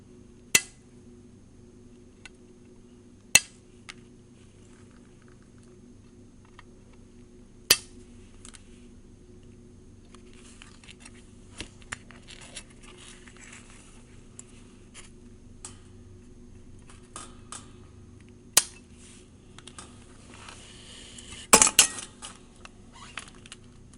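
Sharp metallic snips of cutters trimming soldered capacitor leads on an SSTRAN AM transmitter kit circuit board, several isolated clicks spread out over a quiet room hum, with a quick cluster of clicks near the end.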